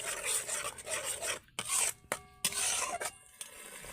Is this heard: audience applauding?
no